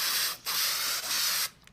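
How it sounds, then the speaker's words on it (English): High-gloss finishing spray hisses onto a Harry Potter Hogwarts tie in three steady, close bursts, with brief pauses between them and a short tail of quieter hiss at the end. "So you just want to spray this all over"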